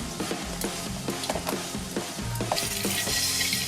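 Mint goes into melted butter and olive oil in a pan for a soup topping, bringing a soft sizzle with stirring and light scraping taps of a utensil, then the frying hiss swells louder near the end.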